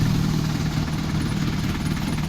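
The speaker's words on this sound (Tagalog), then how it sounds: "namamatay yung makina." An Isuzu Elf mini dump truck engine runs with a steady, loud, close rumble throughout, no pause or cut-out, and nobody speaks.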